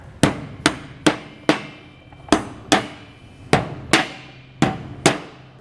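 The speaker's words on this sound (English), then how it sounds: "I'm going to have my buddy hammer these back down in place" Sharp metallic hammer blows strike an E-track bracket on a trailer at a steady pace, about eleven hits, each ringing briefly before the next, loud and close.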